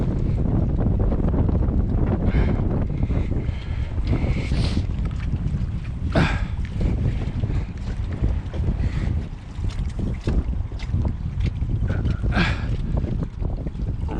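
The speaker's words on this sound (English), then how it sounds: "Every time I hook a fish, the wind gets up." Gale-force wind at Willinghurst Lake during carp fishing, a constant, loud, low rumbling roar buffeting the microphone for the whole stretch, with occasional faint knocks and no talk.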